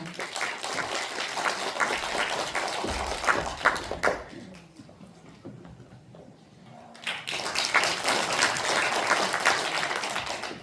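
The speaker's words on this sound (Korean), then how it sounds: "큰 박수로 맞이해 주시기 바랍니다." Audience applause at a Korean volunteer speech event, moderately loud clapping that fades into a short near-silence before a second burst of clapping resumes and carries to the end.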